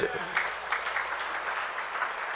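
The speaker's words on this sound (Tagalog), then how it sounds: "Palakpakan po natin." Church congregation clapping at a Sunday school gathering, a moderate patter of hands under a voice speaking over it, with a few louder bursts through the short stretch.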